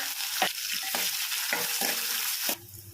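Dry red chillies, garlic and sliced onions fry in hot oil with a steady crackling sizzle, broken by several short stirring scrapes of a spoon in the pan, close and fairly quiet, no voices.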